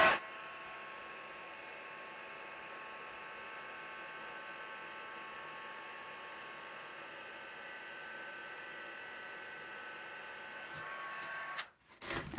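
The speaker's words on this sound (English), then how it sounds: "you just get out a heat gun and give it a little blast with the heat gun" A heat gun blowing on embossing powder gives a steady, close whooshing roar with an even, unbroken tone for about eleven seconds, then cuts off abruptly.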